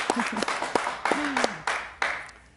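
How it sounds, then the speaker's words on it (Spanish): Studio audience applauding a guest on a talk show, a short burst of clapping with sharp transient peaks, fairly near, mixed with brief voices and a sliding vocal tone. "Un aplauso para ella, por favor."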